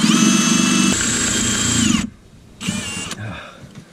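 Power drill used during shock mount repair on a 2001 Jeep XJ, heard as a loud close high-pitched whine running for about two seconds, a brief pause, then another short burst, with no talk.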